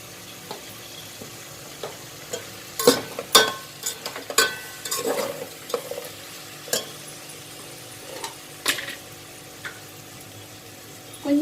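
Vegetable biryani ingredients tossed with turmeric, salt and spices in a pan, giving scattered scraping and clattering stirs with a soft sizzle underneath, several sharp spoon knocks through the middle.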